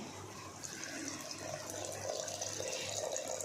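Water pours into a pot of bottle gourd and chana dal curry, a steady splashing hiss that runs through the whole moment and grows slightly louder toward the end.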